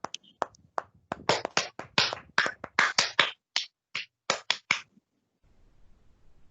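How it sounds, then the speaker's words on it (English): Scouts clap for the winners at a virtual troop birthday celebration, a series of separate close hand claps in an uneven rhythm that stops abruptly, leaving quiet. "A round of applause to our winners."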